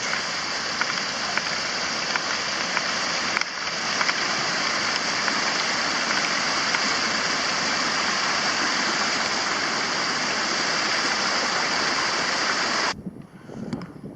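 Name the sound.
creek water flowing on a hiking trail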